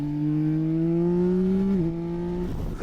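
Yamaha Tracer 9 GT+ Y-AMT motorcycle from 2025 revving up under acceleration, its steady engine tone climbing, then dipping sharply with a quick gear shift near the end, loud and close with no talk.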